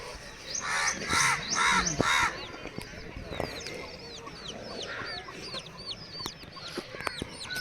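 Hens cluck and a rooster calls in a village yard, with a loud burst of repeated squawks early on followed by steady scattered clucks and crow-like calls nearby.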